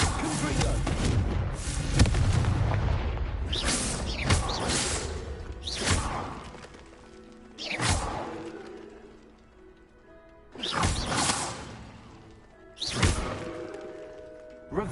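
A Confringo fire blast spell in Hogwarts Legacy bursts in several loud whooshing booms spaced across the scene, each a sharp impact fading into a rumbling tail, with quieter game ambience between blasts.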